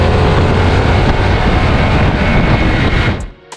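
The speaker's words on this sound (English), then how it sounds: "the Revolution Max engine has more of a purr sound" A Harley-Davidson Revolution Max 1250 motorcycle engine runs loud and close with a dense, steady roar that cuts off abruptly near the end.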